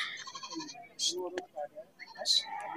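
Goats and sheep bleat at the Thandi Ka Mela livestock fair in spring, short nasal calls rising over a crowd, with people talking nearby throughout.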